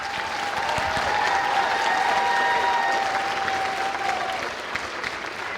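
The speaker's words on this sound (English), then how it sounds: "let's give our true stars another round of applause." Sustained audience applause fills a school band holiday concert hall, steady and dense for several seconds with a few whistles or tonal squeals riding over it, then easing slightly toward the end.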